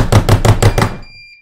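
A Hikvision DS-MP5604N mobile NVR sounds its collision-detection audible warning after being banged: five quick, loud, evenly spaced pulses, followed by a fading high electronic tone.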